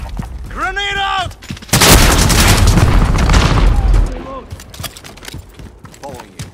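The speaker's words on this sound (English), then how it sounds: "Grenade out!" A heavy, sustained blast roars out for about two seconds in a Call of Duty: Modern Warfare match, probably a thrown grenade exploding, loud and close. Shouted voices come before it and continue after it.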